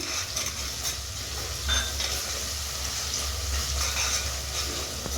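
Ginger garlic paste with chilli sauce and soy sauce stirred in hot oil for green chilli chicken, a steady close sizzle with soft scraping from the spoon, no talking.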